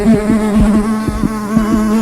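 A steady wasp buzz, close and continuous, with a faint regular pulsing running through it for a couple of seconds.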